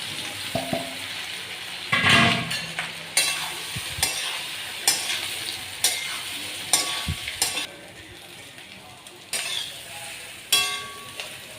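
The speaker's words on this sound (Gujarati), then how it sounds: "લીમડો નાખીશું વઘારમાં અંદર તલ નાખીશું થોડું મીઠું નાખીશું આપણે વઘાર" Green chillies, curry leaves, sesame seeds and salt sizzle in hot oil as a tempering for bottle-gourd muthiya, with about eight crisp scraping stir strokes of a spoon across the pan over a steady close-up crackle.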